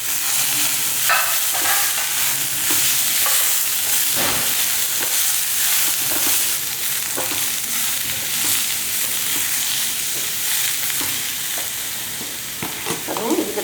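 Onion and tomato sauté in oil in a pan for a vegetable peanut chutney, with a continuous loud sizzle and hiss broken by repeated sharp stirring scrapes and clacks, and no talking.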